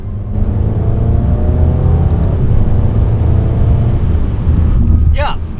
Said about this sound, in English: Yeah, the engine does make noise, but the exhaust is not really very nice.